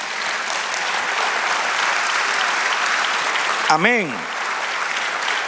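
Sustained applause from a church congregation fills the space evenly for several seconds, with a single voice briefly calling out over the steady clapping near the end.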